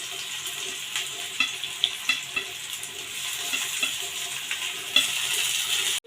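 Garlic sizzles in hot oil for a tempering with mustard seeds, cumin, asafoetida and onion, a steady bright fry with spoon stirs and small pops tapping through it, close and continuous until an abrupt stop.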